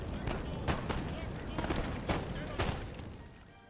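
Canister shot fired by cannons in Napoleon: Total War, a series of sharp booming volleys spaced about half a second apart over a dense, continuous battle din.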